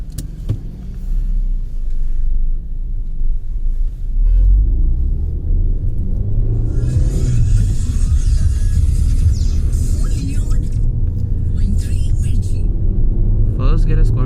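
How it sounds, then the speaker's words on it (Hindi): Toyota Urban Cruiser car driving, with a steady low engine and road rumble heard from inside the cabin, partly under talking, and a brief rise in engine noise midway. "so going for a drive"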